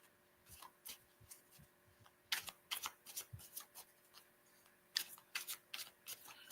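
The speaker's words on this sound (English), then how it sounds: "I'll just wait for your response while I shuffle the cards for you." A deck of cards being shuffled during a psychic reading, with bursts of crisp riffling and soft slaps in several rounds, quiet and close with pauses between, no talking.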